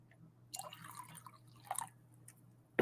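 A machine-embroidered piece with metallic thread is dunked into a bowl of water, giving soft splashes and drips in short bursts, with a sharper splash at the end, heard close up in a quiet room.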